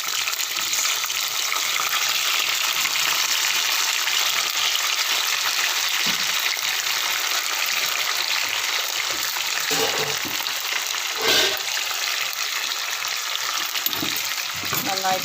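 Bilimbi fruit tossed into a pan of sautéed garlic and ginger sizzles in a dense, continuous hiss, with occasional stirring scrapes and clinks and no talk.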